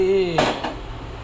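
A metal cooking pot is set down on a lit stove with a single sharp clank, followed by a faint second knock and a brief ringing fade.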